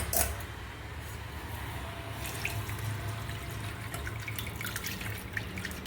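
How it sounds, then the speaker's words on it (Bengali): Whey from milk curdled with vinegar draining through a strainer, a steady close trickle and patter of liquid with scattered drips running throughout, fairly quiet and without talk. "এবার এই ছানার জলটা আমি ছাঁকনাতে ছেঁকে নিচ্ছি"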